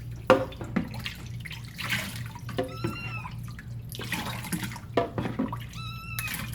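Young kitten being given a bath, crying out in several distressed meows between splashing and dripping water, heard up close.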